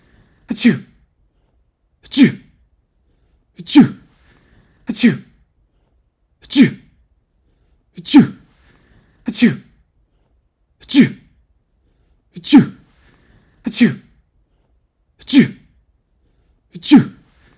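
Sharp sneezes repeat one after another at a steady pace of about one every second and a half, loud and close with silence between each burst.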